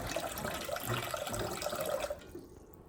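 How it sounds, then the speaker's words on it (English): Water pours from a tap into a pot of washed rice, a steady splashing rush that runs for about two seconds before cutting off, close and moderately loud with no talking. "Next, we add water."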